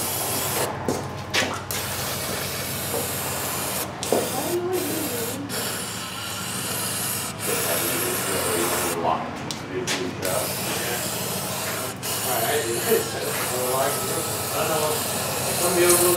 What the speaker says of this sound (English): Clean her out with some brake cleaner.